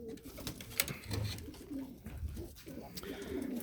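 Pigeons coo softly in a home courtyard, a few low, throaty coos rising and falling beneath a person talking nearby.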